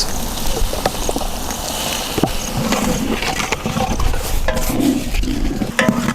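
Tomato sauce being stirred in a cooking pan with onions, a scraping, stirring sound over a soft continuous sizzle, close and steady with small clinks throughout.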